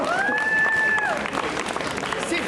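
An audience at a Montreal fan convention applauds and cheers after a performance, a crowd wash of clapping with a sustained whistle-like tone rising through the first second and a voice mixed in.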